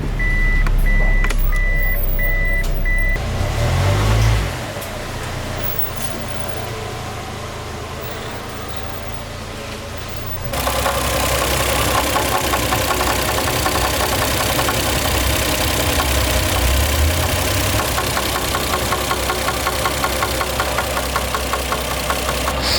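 A Toyota Chaser JZX100 engine runs with a fresh timing belt and a rebuilt VVTi cam gear while making a strange repetitive noise. A steady idle gives way to a louder, denser running sound with a rapid, regular ticking knock throughout.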